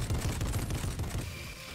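Vehicle-mounted gun fired from the gunner seat in Fortnite, a rapid continuous burst of shots that cuts off after about a second, close and loud.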